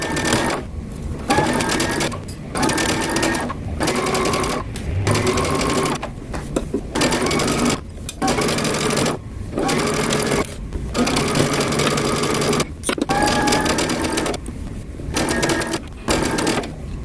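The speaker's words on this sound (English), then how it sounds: "I'm going to start to sew about 1/4 inch away from this edge here" A sewing machine runs in repeated bursts while stitching a seam about a quarter inch from the edge of a flutter top. It sounds close and steady, with brief pauses between runs.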